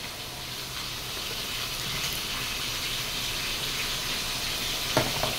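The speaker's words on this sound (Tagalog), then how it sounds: "Lagay na natin yung kalabasa para lumambot." Vegetables sizzle and fry steadily in a cooking pan as squash goes in, with a constant bright hiss and one sharper crackle near the end, no talk.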